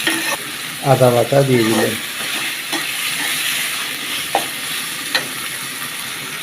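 Tomatoes, ginger paste and vegetables for a Malabar spinach, potato and pumpkin dish fry in a pan, giving a steady, close sizzle with occasional stirring clicks after a short spoken phrase.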